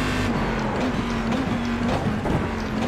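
A GT1 race car engine in the iRacing video game roars steadily at high revs, loud and continuous with a buzzing mechanical tone.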